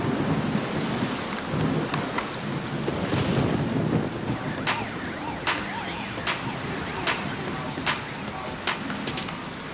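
A thunderstorm rolls with heavy rain pattering steadily on surfaces, a deep rumble of thunder swelling early, then scattered sharp drips and crackles over the continuing downpour.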